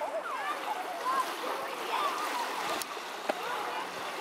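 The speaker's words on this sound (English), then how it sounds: "I love the sound of the water." Creek water trickles and burbles steadily nearby, with a few faint squeaky tones and a soft click over the continuous flow.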